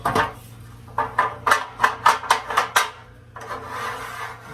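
A sliding side step mounting plate for Go Rhino Dominator D1 side steps is pushed along a running board channel, giving a string of short rasping scrapes in a steady rhythm, close and fairly quiet, followed by a longer grinding slide.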